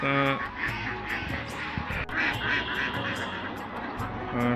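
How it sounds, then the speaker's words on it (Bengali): Several ducks quack repeatedly and overlapping on a duck farm, close and fairly loud, in a busy flock chorus. "আপনারা দেখতেই পাচ্ছেন হাঁসগুলো কিন্তু নতুন হাঁস"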